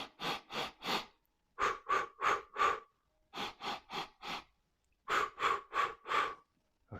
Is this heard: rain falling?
no